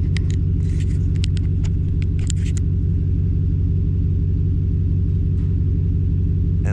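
A car tries to drive out of snow without snow chains, its engine droning in a loud, steady low rumble with a few faint clinks early on and no talking.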